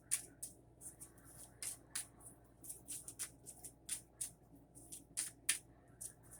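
A brand new tarot card deck shuffled by hand, crisp riffling bursts and slaps coming in a quick uneven rhythm, close and quiet with no talking.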